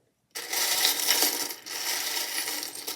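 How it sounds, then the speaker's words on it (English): Small charms jingle and clatter as they are stirred by hand in a bowl, a dense continuous metallic rattling that starts abruptly, dips briefly midway, then resumes steadily, close and fairly loud with no talking. "I'll just give the bowl a mix"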